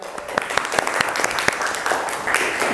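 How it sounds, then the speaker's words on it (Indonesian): Classroom audience applause during a teaching practice session, a short burst of brisk, fairly close clapping from a small group, steady for a few seconds. "Beri tepuk tangan untuk Mbak Fadia."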